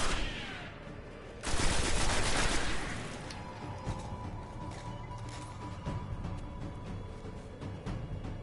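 Enemy gunfire in the video game Destiny, a loud burst of shots near the start followed by scattered fainter reports under game ambience.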